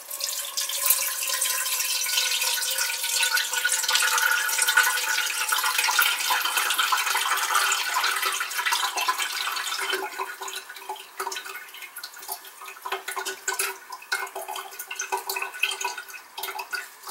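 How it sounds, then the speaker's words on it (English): Cold water running over freshly made paneer held in cheesecloth, a steady close splashing stream from a tap that thins into irregular drips and trickles partway through, with no talking. "Rinse it with cold water to remove the lemon flavor."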